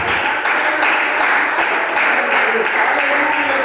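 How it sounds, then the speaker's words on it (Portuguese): A church congregation claps joyfully during a service, a steady, loud wash of many hands applauding throughout, with voices mixed in. "Palmas bem alegres para o Senhor Jesus."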